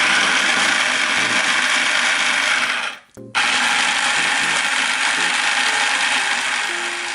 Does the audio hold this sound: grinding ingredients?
yes